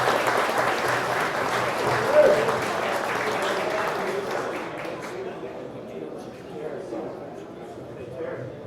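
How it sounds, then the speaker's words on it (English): A crowd claps steadily in sustained applause that gradually thins out and fades toward the end. "we're all going to give you a big round of applause"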